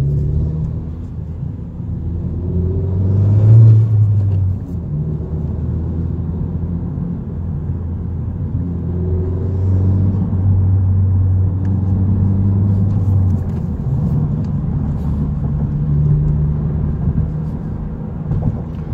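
Heard from the driver's seat, a car fitted with an MA Performance street exhaust gives a steady, loud low rumble that swells gently as it accelerates, with no one talking.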